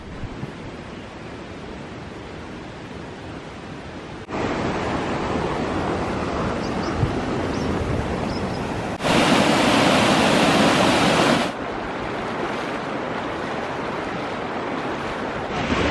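Steady broadband rush of the Adyanpara waterfall at Nilambur, water flowing over slippery rock, loud and continuous with no talk, surging noticeably louder for a few seconds midway before settling back.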